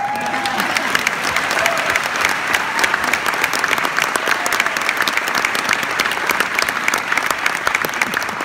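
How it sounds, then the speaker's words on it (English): An audience at a food bank event gives a strong round of applause for the national anthem singer, continuous dense clapping with a brief voice or cheer at the start, sustained and lively throughout. "How about another round of applause?"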